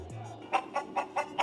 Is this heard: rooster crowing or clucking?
yes